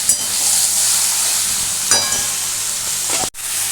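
Mutton frying in a pan, a loud steady sizzle and hiss close up, broken by a brief scrape of stirring and a short clatter near the end.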